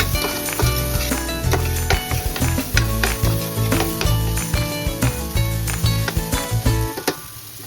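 Chili peppers and tomatoes bubble and sizzle in a pot for a Filipino beef picadillo soup, with steady stirring and pan clatter under continuous background music.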